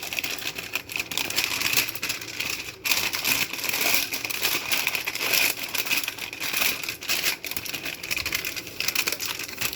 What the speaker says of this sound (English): Now let's place butter paper